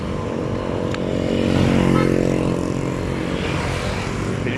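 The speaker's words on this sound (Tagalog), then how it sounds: "Bilis ng motor." A single motorcycle races past on a city street in the early morning. Its engine drone swells as it nears, peaks in the middle and then fades steadily as it moves away.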